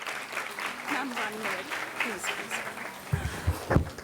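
An audience at a secondary school event applauds, a steady patter of many hands clapping at moderate distance throughout, with a voice and some thumps near the end.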